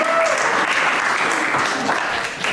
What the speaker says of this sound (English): Let's give the kitchen crew a round of applause for the kitchen crew.